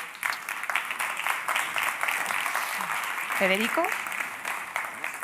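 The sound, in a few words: applause for Federico Muñiz and Javier Ramos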